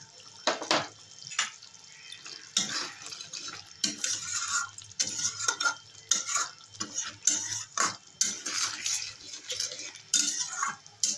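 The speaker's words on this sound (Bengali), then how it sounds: "ভালো করে কষিয়ে নেব।" Chopped tomato with chilli powder, turmeric and salt sautéed and stirred in a pan, heard as irregular clinks and scrapes of a spoon against metal with a faint sizzle in between, nearby and without talk.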